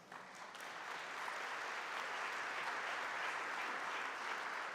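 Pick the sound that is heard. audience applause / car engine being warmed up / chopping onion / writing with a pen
audience applause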